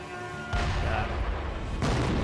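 Cannon fire in a video game, a heavy low boom that swells in at about half a second and a second blast near the end, both under a sustained rumbling wash with faint tonal game music.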